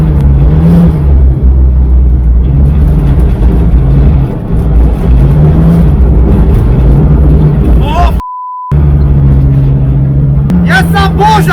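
Toyota Yaris with four-wheel drive driving hard on snow, its engine loud and close with steady revving and whirring throughout, briefly cutting out once before resuming, with people talking over it.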